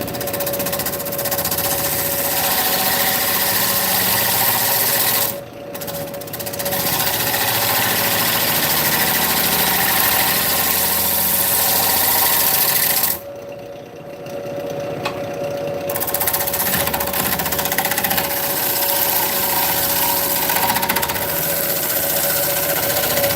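A wood lathe spins a huge burl while light cuts are taken: a loud, continuous whirring drone with gritty tool chatter, easing off briefly twice before resuming.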